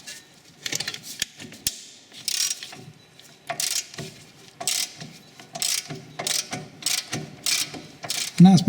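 A socket ratchet with an 18mm socket cracks loose the rear brake caliper carrier bolts on a Dodge Grand Caravan, giving a close series of quick rhythmic clicking pawl ratchets in short bursts with brief pauses.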